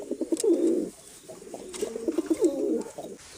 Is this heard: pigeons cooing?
yes